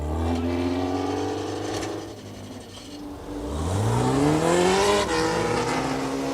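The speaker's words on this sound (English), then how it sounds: "gets his car fired up" Oval track race car engine firing up and revving, loud and close, with rising and falling engine pitch sweeps, a dip mid-way then a strong climbing rev, other race engines droning in the background.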